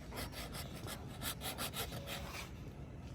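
A small hand saw scores marks into a goat's horn with quick, light rasping strokes, close but fairly quiet.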